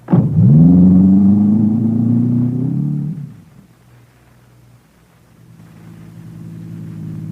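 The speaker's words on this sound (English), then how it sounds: "I drive fast enough to keep out of range, but not fast enough to lose them." A car roars off in a chase, its engine revving loud and steady for about three seconds before easing into a quieter, low continuous hum.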